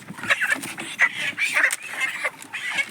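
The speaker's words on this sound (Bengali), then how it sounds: "18 পিস করে মুরগি আমরা ওজন করছি" Chickens at a poultry farm clucking and squawking in short bursts while caged birds are weighed on a scale, the calls close and fairly loud, with a faint voice in the background.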